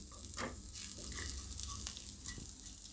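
Cumin seeds sizzling in hot oil for a Gujarati farali handvo, a steady close crackling hiss with small pops as the seeds turn reddish, and no talking.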